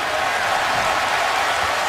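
Steady roar of a football stadium crowd at an NFL game between the Buffalo Bills and Kansas City Chiefs, a dense continuous wash of cheering and noise holding level for the whole moment, with no clear voices standing out.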